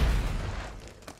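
A flashbang grenade goes off in the Black Ops 6 beta, a loud, close boom with a heavy low-end thump that fades over about a second, with no speech.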